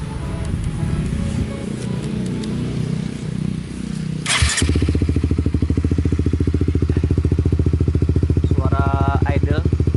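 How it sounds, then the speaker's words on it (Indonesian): A Honda CBR 150fi fitted with a custom exhaust settles into a steady, deep, close idle with an even low pulse, after a few seconds of clattering, rustling handling noise. "Kemudian kita nyalakan mesinnya."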